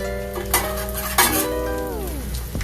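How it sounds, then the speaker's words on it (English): Bananas for bananas Foster hit a hot pan and sizzle softly, with a couple of utensil clinks against the pan and a faint ringing tone in the background. "So now we add our bananas in here."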